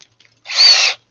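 A power screwdriver whirs in one short, loud, close burst of about half a second while backing screws out of an old relay, with no other sound around it.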